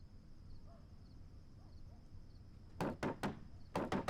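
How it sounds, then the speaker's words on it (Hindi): Knocks on a wooden door in a dubbed kung fu film, two quick sets of three sharp raps near the end, loud and close after a quiet stretch of night ambience. "कब से खटखटा रहे हैं"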